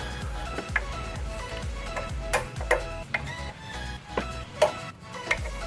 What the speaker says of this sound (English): Make sure they make a little popping noise like that.